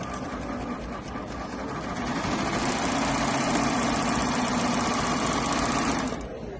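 Baby Lock sewing machine running steadily with a shirring/gathering foot, joining two fabric layers while one gathers, a continuous close whirring hum that holds even for several seconds before stopping.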